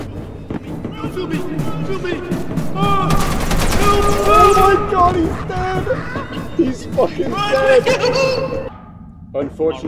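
Rapid turret gunfire in the Content Warning video game, a dense burst of shots that builds to a loud peak, with excited voices shouting and laughing over it.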